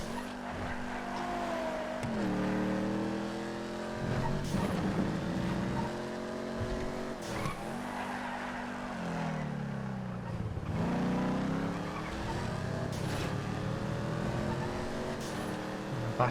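Hotknife hot rod engine in GTA FiveM, roaring steadily as it drives, with gear shifts, rises and falls in revs and a brief skid under the drone.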